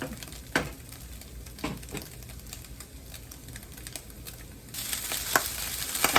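Eggs frying hard in a pan for shrimp fried rice, a steady close sizzle with occasional sharp clicks and scrapes, growing brighter and louder in the last seconds, with no talking.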